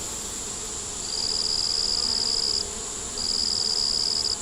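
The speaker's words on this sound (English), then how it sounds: "Kind of late in the year for my bees to be swarming" Honeybees swarm late in the year around a growing backyard hive, a dense continuous buzzing hum with two louder, higher whining passes of bees flying close by.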